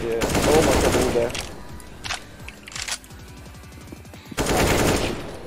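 Rapid bursts of video game gunfire crackle loudly at the start, then trail into scattered shots and mechanical clatter before another loud burst near the end; a voice speaks briefly in between.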